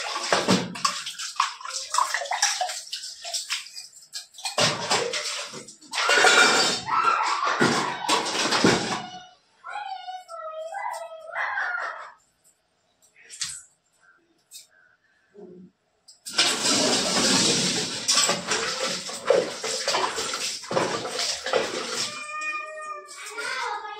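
Water runs and splashes loudly while someone washes their feet after doing the dishes, with two long gushing stretches separated by quieter pauses holding brief clatter and a voice.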